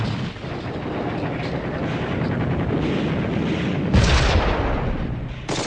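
Dense, continuous war gunfire and explosions fill the scene, with machine guns and artillery blasts merging into a loud, unbroken roar and a heavier burst near the end, with no voices.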